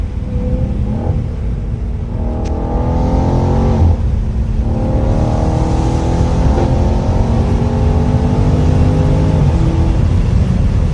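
Engine of a Dodge Charger 392 Scat Pack revving with a steady, continuous rumble from inside the cabin, the pitch rising and holding, loud and alone with no talking.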